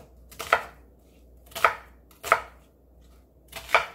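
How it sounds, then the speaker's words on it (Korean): Four crisp knife chops slice through an onion on a cutting board close by, spaced about a second apart, with quiet between them. "양파 중간 크기 한 개 썰어주세요."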